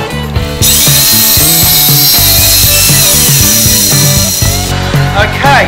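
Power saw ripping through timber, loud and close, with a sustained high whine that starts after a brief spin-up and cuts off near the end as the blade runs down.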